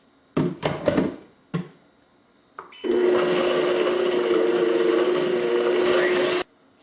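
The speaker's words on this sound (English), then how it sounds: "I'm going to blend this a little bit more to get it nice and creamy" A few short pulses, then a countertop blender running steadily for several seconds as it whirs a creamy sauce made with nutritional yeast, loud and close before it cuts off abruptly.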